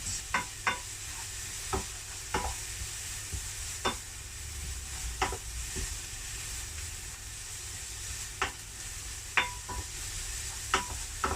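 A leek and mushroom sauce bubbles softly in a pan beneath a faint sizzle while a utensil scrapes and taps against it every second or so.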